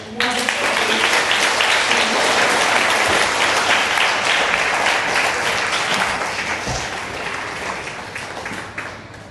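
A sixth grade promotion ceremony at an elementary school, where the crowd gives a full round of applause that starts strong and steady, then slowly tapers.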